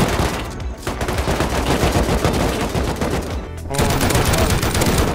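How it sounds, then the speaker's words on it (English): Gunfire in the video game Rust: loud, rapid automatic shots crackle almost nonstop, with a short break before another dense burst. "he's shooting at us"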